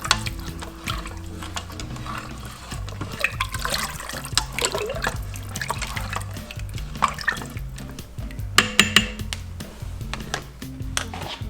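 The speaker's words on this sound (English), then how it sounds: "Let's give it a stir." A spoon stirs chicken soup with sweet chili sauce in a pressure-cooker pot, giving liquid sloshes and irregular light clinks against the pot that repeat throughout at close range.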